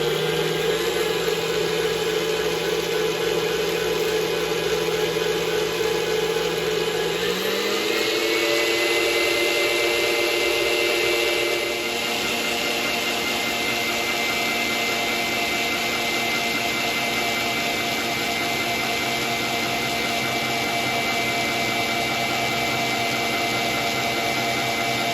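An electric hand mixer whips egg whites for angel food cake, a steady motor whine that jumps in pitch as it is cranked up to high speed, then holds a loud, even drone to the end.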